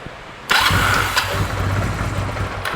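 A Honda Rebel 250 motorcycle, left sitting for eleven years, cranks and fires up nearby, the engine catching with a burst and settling into a loud, slightly uneven idle.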